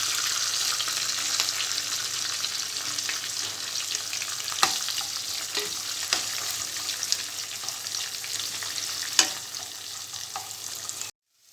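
Onion pieces and curry leaves fry in hot oil for Rayalaseema uggani, a steady, fairly soft sizzle with a few light clicks of stirring, cutting off abruptly at the end; no speech.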